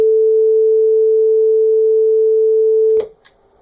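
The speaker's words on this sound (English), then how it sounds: "here's the clean sine wave" A steady, pure electronic tone holds at a single pitch for about three seconds, then cuts off abruptly with a faint click.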